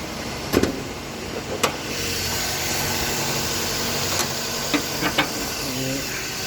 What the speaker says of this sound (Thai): เสียงเครื่องเงียบกริบนะครับ